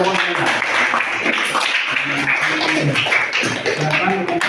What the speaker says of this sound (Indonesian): Kita beri tepuk tangan yang meriah untuk kelompok Jaya.